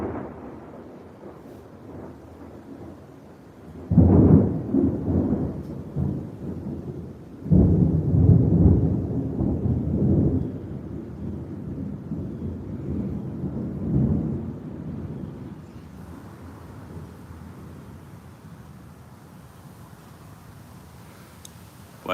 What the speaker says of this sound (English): when that thunder hits, it's deep, it's loud, and you feel it.